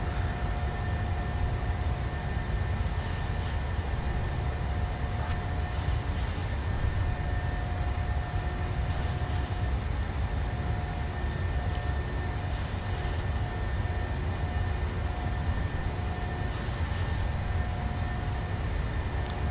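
Boeing 737 engines spooling at climb thrust in the MSFS2020 flight simulator, a steady, loud broadband roar with a low rumble and faint high whine, unbroken throughout.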